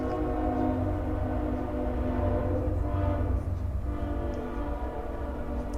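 A train horn sound effect blares as a loud, sustained chord of low, buzzy tones that holds steady for several seconds before easing slightly, with no voices.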